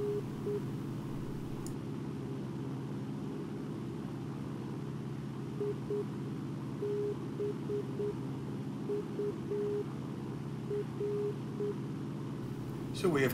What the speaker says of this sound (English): We have identified it via its Morse code, so we can be sure that that's Burbank